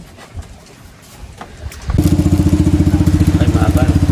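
A small motorized bangka boat's engine rumbles to life partway through and settles into a loud, steady, rhythmic chugging, with soft voices and outdoor background noise before it starts.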